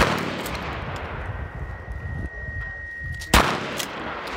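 A single loud shotgun blast cracks out near the end of a tactical shotgun class drill, standing sharply above a steady outdoor background hiss and rumble.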